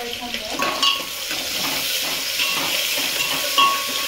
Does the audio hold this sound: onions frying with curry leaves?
yes